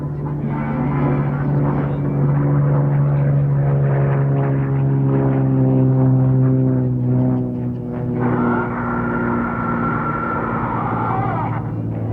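USAF aircraft fly aerobatics at the 1997 Nellis Golden Air Tattoo air show, producing a loud, sustained engine drone whose pitch shifts and swells as the planes maneuver.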